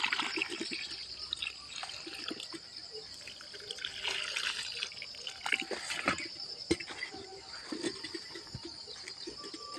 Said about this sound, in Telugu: చెట్టు అయితే నాటేసి నీళ్ళు పోస్తున్నాను.